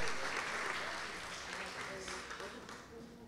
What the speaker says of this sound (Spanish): el aplauso para las tres personas que han ganado estas tres canastas navideñas.